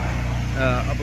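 A truck-mounted house-washing rig for blending cleaning solution runs with a steady, droning engine hum close by, while someone talks over it.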